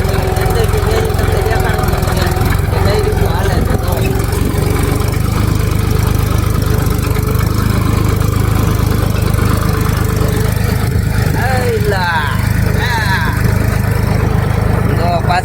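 A loud, steady low engine drone of a tractor running continuously while ploughing a field, with a rough knocking texture and brief higher squeaks toward the end.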